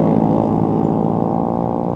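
A motorcycle with a loud modified exhaust roars steadily nearby, a loud, rough, throaty drone that holds constant throughout, in Semarapura, Klungkung, Bali.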